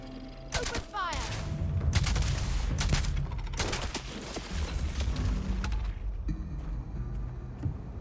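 Rapid gunfire erupts in a Starfield video game battle, with dense loud bursts and cracking shots running continuously for several seconds over a low rumbling background.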